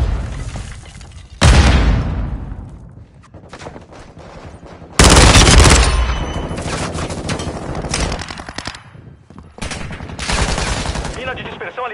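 Grenade blasts and gunfire in a Call of Duty MW2 multiplayer match: two loud, close explosions burst out with heavy booms amid scattered rapid shots and crackling, while a player's voice is heard faintly in places.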